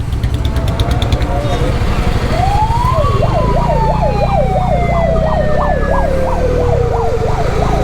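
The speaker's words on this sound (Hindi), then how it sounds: "तो जिसके पास कुछ नहीं है उसके पास सायरन है।" A loud wailing siren sweeps up and down rapidly, close by over steady engine rumble and traffic noise on a highway at night.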